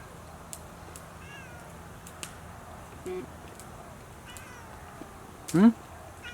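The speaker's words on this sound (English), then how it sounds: "Happy, happy white cat." A white cat meows in short bursts against a faint, steady background, with one louder wavering meow near the end and a person talking around it.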